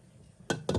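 A lid is set onto a pot holding a one-pot potato dish, producing two short close metallic clinks after a quiet stretch.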